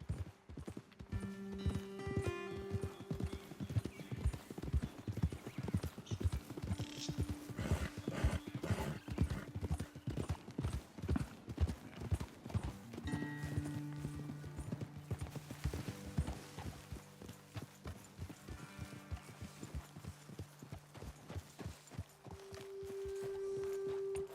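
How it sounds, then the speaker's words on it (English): Horses trotting in the video game Red Dead Redemption 2, a dense, rhythmic clip-clop of hooves close by, with occasional whinnies and snorts, continuing steadily with no talking. "Okay, let's dismount here. Best leave the horses back a bit."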